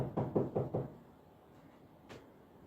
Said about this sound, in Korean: 요셉과 마리아가 여관으로 다가가 문을 두드립니다.